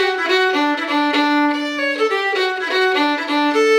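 Fiddle plays a lively single-line tune with bowed notes moving quickly, bright and close, with no voices.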